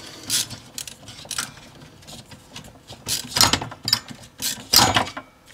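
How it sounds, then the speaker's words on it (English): LTT ratcheting screwdriver in use, giving bursts of sharp mechanical clicks and ratcheting rattles in irregular groups, fairly close, with quiet pauses between them. "we're testing ratcheting screwdrivers here. And the last one we'll do with the LTT."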